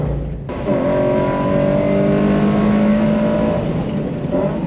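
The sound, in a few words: race car engine on track at Pineview Run trackday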